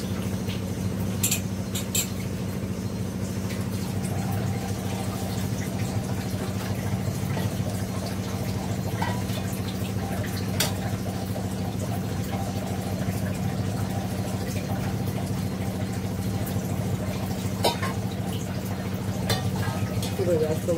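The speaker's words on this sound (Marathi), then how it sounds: "इथे एकीकडे मी पाण्याची सुद्धा मशीन लावलेली आहे." A drinking-water purifier machine and a geyser run together in a home kitchen, giving a steady droning hum with a low mechanical rumble that holds throughout, broken by occasional faint clicks and clatter.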